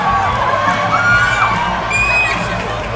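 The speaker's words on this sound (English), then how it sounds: "That's going to get the crowd on their feet here at South." Youth hockey crowd cheering and shouting in the stands after a goal at a Bantam AA game, a loud sustained roar with high children's shouts and whoops.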